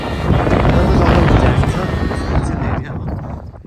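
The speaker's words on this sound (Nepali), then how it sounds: "लास्ट हावा चलेछ आज पनि।" Loud, steady wind beside a golf course buffets the microphone in a broad rumbling roar that eases slightly toward the end.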